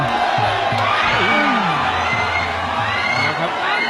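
Muay Thai fight crowd screaming and cheering loudly and continuously, a dense wall of shouts and whoops with voices rising and falling throughout.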